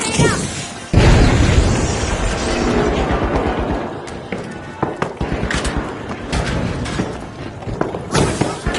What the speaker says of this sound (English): Throwing goo grenade.